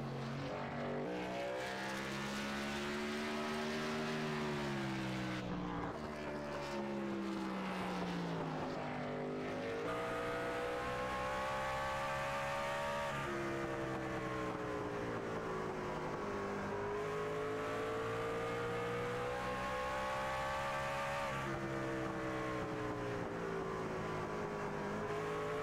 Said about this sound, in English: He is the only truck out on the track for the moment.